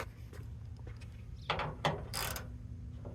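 Ratchet tightening a 12 mm hood bolt on a Toyota car, a few quiet clicking ratchet strokes in short bursts over a low steady background hum.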